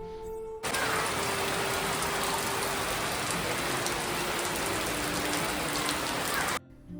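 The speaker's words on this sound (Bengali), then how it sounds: "বাইরে পড়ছে মুষলধারে বৃষ্টি" Heavy rain pours steadily in a dense, continuous hiss, starting abruptly after a brief quiet moment and cutting off near the end.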